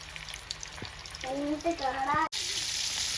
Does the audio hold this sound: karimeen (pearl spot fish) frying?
yes